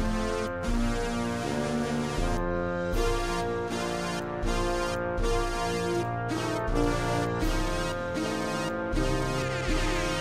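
A synthesizer-like trombone tone from the video game Trombone Champ plays a steady melody of sustained, buzzy notes with short gaps between phrases, heard alone at moderate volume.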